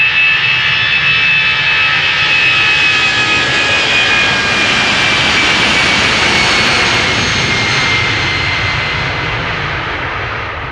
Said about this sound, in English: EasyJet flight 22512 outbound London Luton Airbus A319.